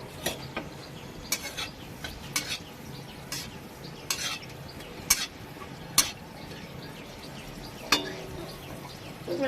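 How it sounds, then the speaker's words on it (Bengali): Dried red chillies hit hot oil in a pan and crackle with a soft sizzle, while a spoon scrapes and stirs in sharp, scattered clinks, fairly quiet and close, with no talking. "তেলটা গরম হয়ে গেছে এবার আমি দুটো শুকনো লঙ্কা দিয়ে দিচ্ছি"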